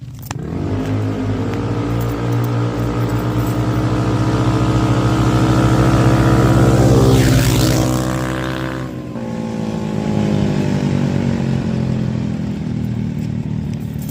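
Two 170cc ATVs, a Hammerhead and a Carbide, race with loud, steady engine drone and revving, the whine building as they pass close around the middle, then dropping away before the engines pull on again.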